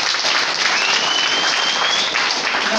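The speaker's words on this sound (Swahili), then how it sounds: "Kama wewe ni mwanaume nipigie makofi." A church seminar congregation in Kimbwi applauds loudly and steadily, dense clapping from many hands filling the whole stretch without a break, close and full.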